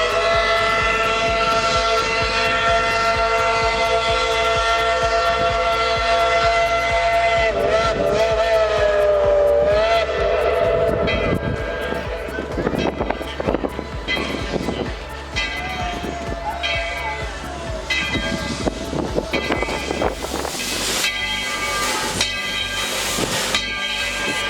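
Steam locomotive No. 12 of the Tweetsie Railroad pulls into the station, with loud hissing steam, chuffing and clanking of the train close by, then bursts of hiss and mechanical knocks as it slows.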